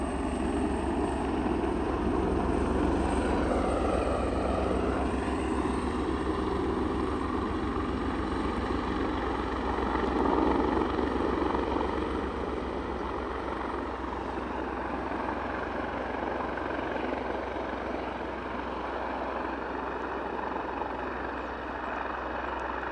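Helicopters fly at Aberdeen airport, a steady, loud broadband rotor and engine roar that holds for the whole stretch. It swells slightly midway, then eases off a little.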